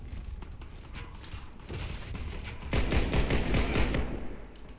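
Sustained gunfire rattles in the Warface shooter, with rapid automatic bursts running throughout and growing louder and denser in the second half, close and continuous without talk.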